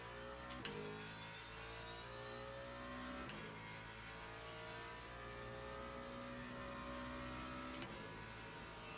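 Race car engine in the sim racing game Le Mans Ultimate, steady loud drone with shifting harmonic pitch as revs rise and fall under engine braking into a corner, with a few sharp gear-change clicks, no talking.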